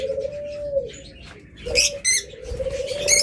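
A pair of caged birds offered for sale, giving soft cooing calls with brief wing flutters and a few chirps over a steady electrical hum, fairly close and moderately loud.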